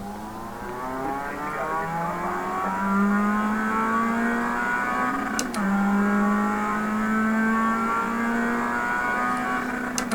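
A pack of Mazda MX-5 Cup race cars in the iRacing simulator roars off the start at Laguna Seca, with engines rising in pitch through gear changes in a sustained, layered drone and a brief shift click midway.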